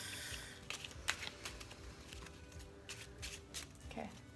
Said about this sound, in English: now shuffle them back up however you want